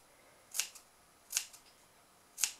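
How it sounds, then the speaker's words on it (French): Scissors notch faux leather piping on a shoulder bag in three crisp, separate snips spaced about a second apart, close and clear against a quiet room with no talking. "on prend nos ciseaux et on va cranter"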